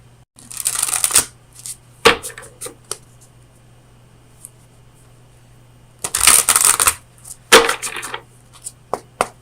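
Oracle cards from the Oracle of Visions deck being shuffled and drawn during a tarot reading: two loud, close bursts of riffling cards separated by single sharp snaps and a quiet pause, with no talk.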